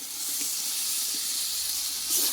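Okra dropped into hot oil with spices in a pan, frying with a steady, close, bright sizzle and hiss that swells slightly near the end, no voices.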